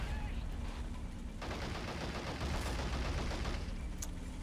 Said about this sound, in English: He's just trying to AP snipe all these guys.